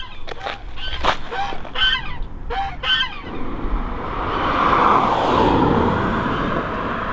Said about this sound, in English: Are they geese?